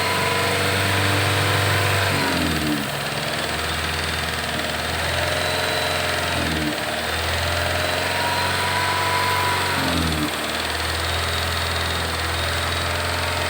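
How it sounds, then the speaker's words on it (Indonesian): A 2009 Nissan Livina engine, running rough during a tuning treatment, is held at a steady 2000 RPM: a loud, continuous mechanical drone with brief dips and wavering in pitch every few seconds, close and without talk. "Gas ditahan di RPM 2000."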